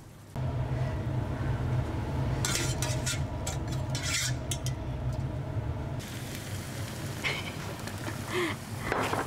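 Food, including broccoli, sizzling in a pan while being stir-fried, with scraping and clinking of a utensil against the metal, close and continuous.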